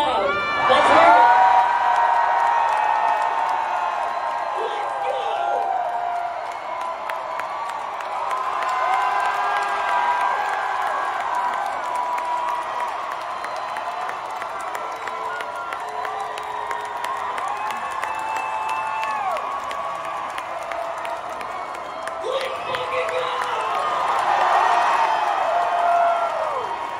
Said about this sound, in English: You can't do it unless we all cheer really loud.